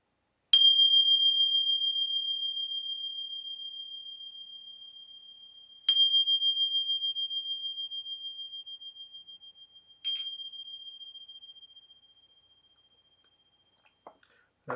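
Bells ring three times, each a loud, clear metallic strike with a long ringing decay, spaced several seconds apart, followed by a faint soft rustle.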